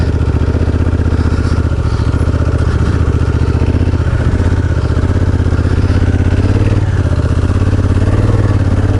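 A Honda Africa Twin motorcycle riding a dirt bike trail, its engine a loud, close, steady rumble with rapid firing pulses and light clatter throughout, no voices.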